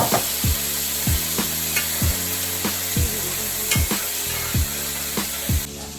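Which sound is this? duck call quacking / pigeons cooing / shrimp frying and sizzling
shrimp frying and sizzling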